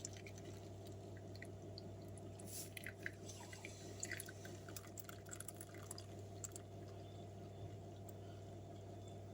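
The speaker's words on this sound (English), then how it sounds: "I'm going to pour it in my bowl" Room-temperature milk pours into a bowl in a home kitchen, a faint trickling and splashing heard briefly over a constant low hum.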